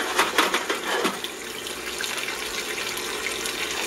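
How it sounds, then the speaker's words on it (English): Pot of cooked noodles and boiled eggs poured into a colander, a steady rush of draining water with a louder splashy pour at the start that settles into continuous hiss. "I'm going to drain my noodles and my eggs into the colander at the same time."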